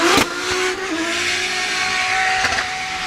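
A Subaru BRZ drift car engine revs hard and steadily at a drift competition, its pitch rising and falling slightly, with a brief tire chirp near the start.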